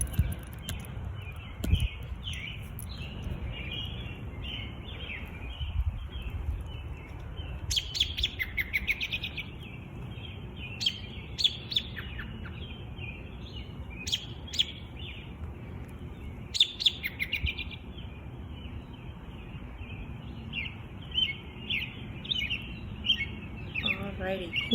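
Several birds chirp and sing in an early morning outdoor ambience, with scattered short calls near and far over a soft, steady background hiss.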